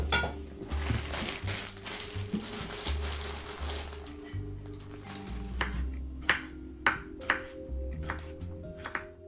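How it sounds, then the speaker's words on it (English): Someone preparing dinner in Dinner Date, first a low clattering of dishes with running-water hiss, then sharp isolated clinks and taps of crockery and utensils, close and distinct, no talk. "In the background, you can hear someone preparing dinner and moving from one task to another."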